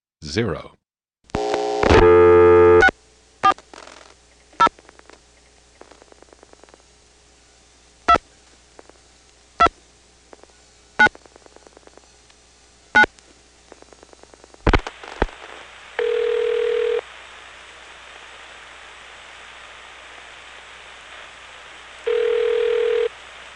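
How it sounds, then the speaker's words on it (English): An XY step-by-step telephone exchange register sender outpulses two digits, giving a sparse run of sharp relay clicks in quiet after an opening burst of tones. Two longer steady tones sound later, with a faint background hum throughout. "When I dial 640, you will hear the register sender dial 40."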